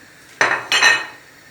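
A spoon stirs ashure pudding with dried apricots and raisins in a pot, giving two close, sharp metallic scrapes against the pot in quick succession, with quiet between them.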